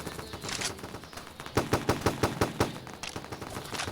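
Rapid gunfire in the first-person shooter game Gun Ground, a quick burst of about eight evenly spaced sharp shots mid-clip, with scattered fainter pops before and after.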